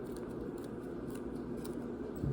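Scissors snip through tassel threads, a few soft close cuts over a steady low background hum, with a final louder snip near the end.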